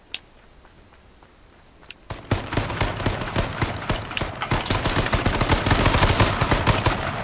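Rapid bursts of gunfire ring out in a video game shootout, starting faint and sparse, then erupting into dense, loud, overlapping shots that build in intensity to the end.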